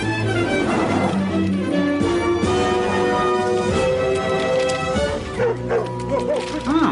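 Several kennel dogs bark, yip and whimper over a musical background, a dense and continuous chorus with some higher whining calls toward the end.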